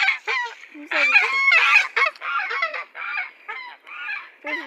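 Ducks call close by in a rapid, uneven string of loud nasal honks and quacks, several overlapping one another.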